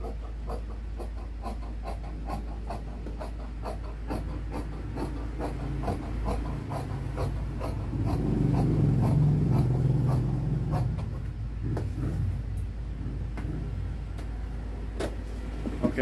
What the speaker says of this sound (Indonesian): Di bagian sini kita potongnya sama dengan kainnya ya.